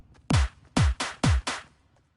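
Four repeated E notes from Fortnite music blocks playing the coffin dance tune, each a bright plucked synth tone with a deep bass thump, evenly spaced and clear with no talking.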